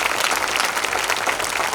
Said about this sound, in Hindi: एक बार तालियां बजा करके माहौल दे दीजिएगा।